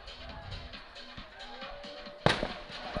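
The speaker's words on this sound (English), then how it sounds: "I guess the sound of freedom is fireworks." Fireworks go off during a high school football game night, with faint distant crackles and then one sharp, louder bang near the end, under crowd noise and a commentator's voice.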